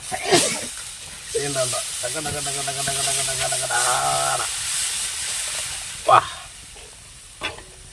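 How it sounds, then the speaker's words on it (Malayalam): Water is poured into a hot pan of fish curry soured with kudampuli, setting off a sharp hiss and bubbling sizzle, with clinking utensils and brief voices nearby. "ഇനി വെള്ളം ഒഴിക്കുവാണ്"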